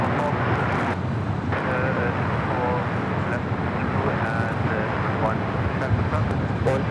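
An ITA Airways Airbus A350-900 roars steadily on its takeoff run at Los Angeles International Airport, a broad, continuous engine rumble throughout, with a person talking over it.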